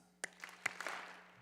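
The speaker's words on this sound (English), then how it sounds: "So 2 claps." An audience at a Sun Valley Community School graduation ceremony claps twice in unison, two sharp crisp bursts about half a second apart, followed by a soft scatter of stray claps and room murmur.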